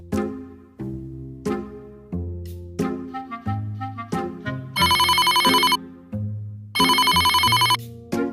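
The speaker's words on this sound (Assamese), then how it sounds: "তাইক এটা ফোন কৰি লওঁ" A phone rings out on an outgoing call: a repeating electronic melody ringtone plays in short phrases, with two bursts of a harsher buzzing ring, loud and close with no talking.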